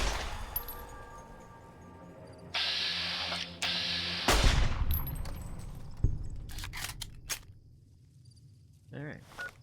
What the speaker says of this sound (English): time to shotgun some scorpions